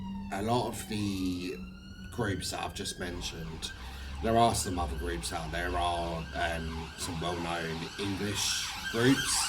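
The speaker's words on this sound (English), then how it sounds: "I do apologise about the sirens." Emergency vehicle sirens wail outside, rising and falling steadily throughout as someone speaks continuously over them indoors.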